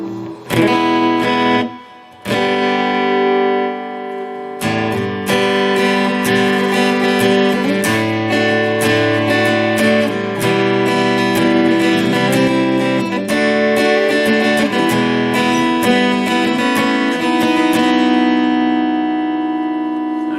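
Electric guitar runs through a Martin DRS1 pedal into a Boss Katana amp, playing a continuous, full-bodied riff with strummed chords and picked notes for about twenty seconds, loud and steady with no voices.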